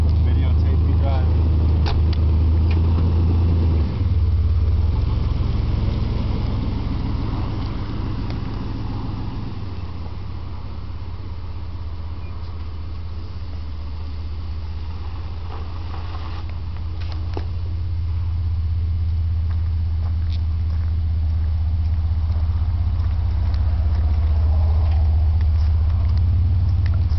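1989 Chevy S10 Cameo pickup driving, a steady low engine and road rumble that fades slightly as the truck moves away and then swells back, with some talking at the start.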